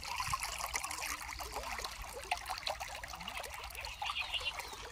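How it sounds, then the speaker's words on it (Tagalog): Strong water current rushing steadily at a fishing spot in Saudi Arabia, a dense continuous trickling and gushing that stays loud and close throughout with no talk over it. "Ay, malakas pala yung agos dito."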